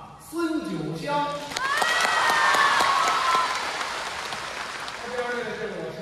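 A live audience at a Deyunshe xiangsheng crosstalk show in Xiamen applauds a performer, with sustained clapping and cheering that swells, holds loud, then tapers under a voice speaking.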